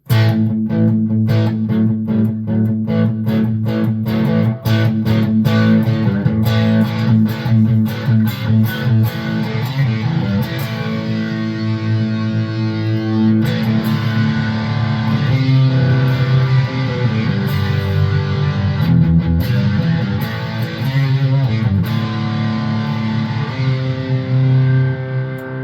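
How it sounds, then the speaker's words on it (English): An electric guitar runs through a distortion pedal into a small amp simulator pedal set to a Marshall-style sound, giving thick, loud, sustained chords and riffs with no talking over them. "And you put a distortion pedal in front of it."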